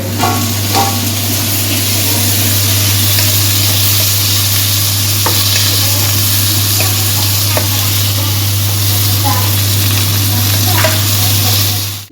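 Tomatoes fry in hot oil in a pan for mutton kudal kuzhambu: a loud, continuous close sizzle with occasional stirring scrapes and light knocks, steady throughout, with no speech.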